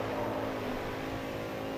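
An all-wheel drive car's engine drones steadily in a racing video game, a continuous mid-pitched hum under a faint background whine with no talk.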